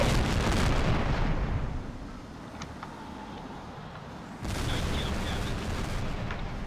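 Bombs fired and exploding in the jet combat video game Tom Clancy's H.A.W.X. A loud, dense roar of blasts and rumble fades to a lower steady engine drone, then surges back heavy, with no speech over it.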